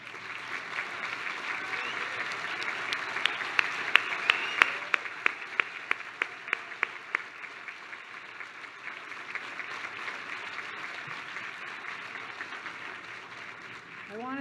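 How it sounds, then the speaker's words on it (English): A large audience at an awards ceremony applauds the honorees' family members, a sustained hall-wide wash of clapping with a few sharp close claps standing out early on, talk faintly underneath. "I'd like to ask the family members of the honorees to stand so that we can applaud for you too."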